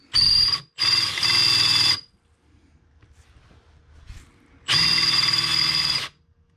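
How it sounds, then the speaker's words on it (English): A power drill with a dull bit whines and grinds loudly in three bursts while drilling a bracket, the middle one longest, with quiet scraping in between. "That is a not very sharp drill bit."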